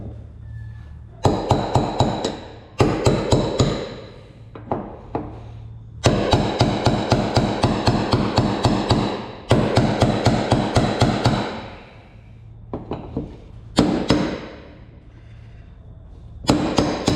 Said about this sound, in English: So we'll just get a hammer and a chisel, turn that anti-clockwise, and then we'll lift the old pump out